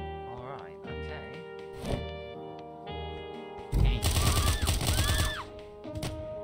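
Gunfire in the video game Of Murder and Moonshine: a heavy burst of rapid shots over a sustained game soundscape with music tones, fairly loud and close, following some quieter in-game effects.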